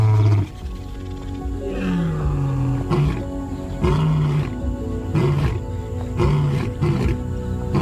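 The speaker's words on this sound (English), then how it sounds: "A roar that thunders like rolling thunder, audible from 5 miles away." A big cat lets out a series of deep, rumbling roars in repeated bursts, loud and close, with a musical backing underneath.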